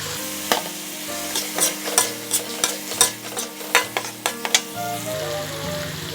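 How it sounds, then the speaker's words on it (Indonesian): Sliced sausage and meatballs stirred into sautéed spice paste for seblak, sharp spoon-on-pan clacks in an uneven rhythm over a soft sizzle, close and clear, with steady tonal background music and no talking. "masukkan sosis dan bakso yang telah diiris tadi"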